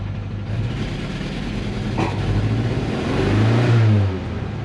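Ford Ranger engine revving hard while driving, a steady mid-pitched drone that swells louder toward the end and then eases off, heard inside the cab with no talking.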